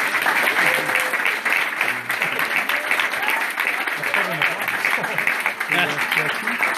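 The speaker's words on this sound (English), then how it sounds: "It's great having a cheering section," An audience applauds and cheers after a talk at a virtual reality meetup, with steady dense clapping and voices mixed in throughout.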